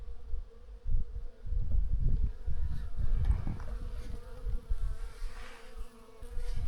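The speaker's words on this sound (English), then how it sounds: "Listen to the buzzing." Insects buzz along a hiking trail on Santorini, a dense, low, wavering drone that fills the air steadily with no one talking.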